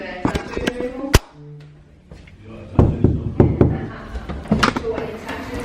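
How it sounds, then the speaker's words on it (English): Knuckles rap on the door of a beauty salon: a quick series of sharp knocks, a pause, then another burst of loud raps, close by, with voices and room noise around them. "I'm gonna knock on her door and introduce you to her."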